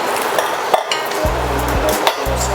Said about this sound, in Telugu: మనం చపాతీ పిండి కలుపుకుంటున్నాం.